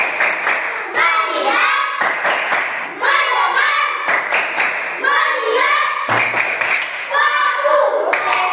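Fourth-grade schoolchildren in an Indonesian elementary classroom perform a patterned class clap, loud and close, in repeated bursts of rhythmic claps and thumps alternating with children chanting together.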